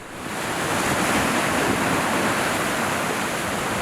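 Ocean surf crashes into a natural volcanic rock amphitheatre, a loud, continuous roar of breaking water with heavy wind buffeting the microphone.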